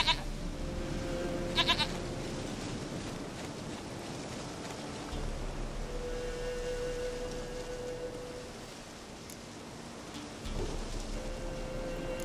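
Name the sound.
goat bleating in video game The Witcher 3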